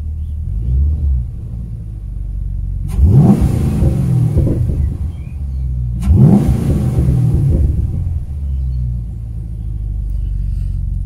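A Chrysler 300C Hemi V8, warm from a drive, idles with a deep rumble and then gets two sharp blips of the throttle about three seconds apart. Each rev surges loudly and falls back to idle. The car is close by, with no talk over it.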